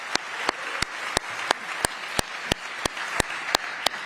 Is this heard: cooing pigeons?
no